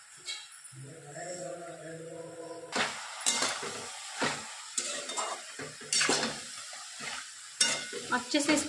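Food sizzles steadily in hot oil in a wok while a utensil scrapes and stirs against the pan in irregular strokes.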